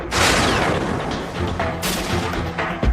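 Heavy artillery fires in loud, booming blasts. Several overlapping reports and rumbling crashes follow one another closely over a few seconds.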